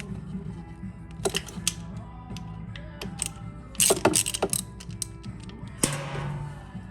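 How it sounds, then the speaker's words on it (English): A ratchet with a T40 Torx bit works the primary drain plug on a Harley bagger motorcycle, giving close, sharp clicking and creaking bursts in uneven clusters against a quiet background. "We will start by taking a T40 Torx bit and draining the primary fluid."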